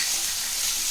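Paneer pieces frying in a pan for chilli paneer rolls give off a steady, close hiss of sizzling oil that stays even throughout, with no voices.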